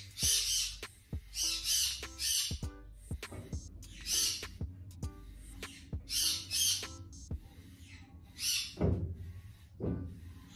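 A pet bird squawks in short, harsh bursts again and again across several seconds, near and fairly loud in a quiet indoor space, with brief pauses between calls.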